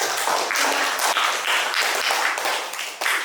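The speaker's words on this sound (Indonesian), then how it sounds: "Ya, tepuk tangan untuk kelompok." Classroom audience clapping for a presenting student group, a loud close burst of many hands in a fast, uneven patter that swells and fades slightly over a few seconds.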